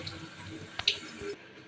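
Tap water runs softly while raw chicken is washed, a faint, steady splashing stream with a couple of small knocks that stops abruptly near the end.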